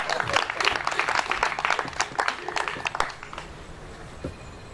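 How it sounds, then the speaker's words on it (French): A comedy festival crowd in Lomé claps and cheers in a thick burst for about three seconds, then quickly fades to a few scattered claps and room noise. "Applaudissez pour moi aussi"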